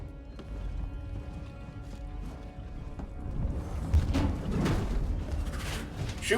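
Running footsteps in the video game Alien Isolation thud in a quick, uneven patter over a low rumbling background, growing louder and heavier toward the end.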